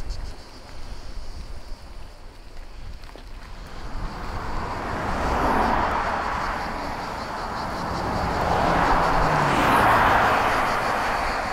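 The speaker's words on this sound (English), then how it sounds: "very fast traffic." Fast traffic on a busy road in Provence, heard from a bicycle on a cycle lane: a constant roar of wind and tyre noise with vehicles swelling past in long whooshes, close and fairly loud.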